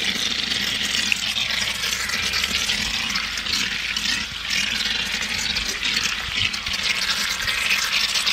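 Freshly harvested homegrown carrots are washed under running water, a steady, close hiss of splashing and rushing water that continues throughout.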